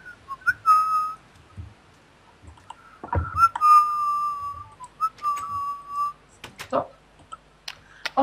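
A person whistles a few sustained tones with pauses between them, close by, amid faint clicks and thumps, during a Minecraft play session.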